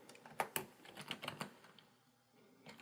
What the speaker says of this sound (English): We'll go ahead and create a new text layer, and on it we will type Hugo